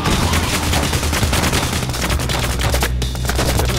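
Dense automatic gunfire in Payday The Heist played on Hard, a loud, unbroken volley of rapid shots from several weapons at once, close and relentless throughout.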